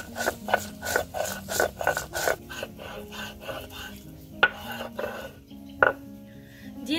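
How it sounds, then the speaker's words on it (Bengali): Whole cumin seeds and coriander being ground into a paste, likely on a grinding stone, for a Bangladeshi hilsa pulao and fried eggplant meal: a steady rhythmic rasping and scraping, close and fairly loud, a few sharper scrapes toward the end. "গোটা জিরা আর ধনে বেটে নিব"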